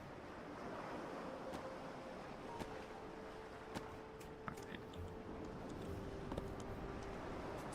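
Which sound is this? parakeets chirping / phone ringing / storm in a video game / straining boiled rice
storm in a video game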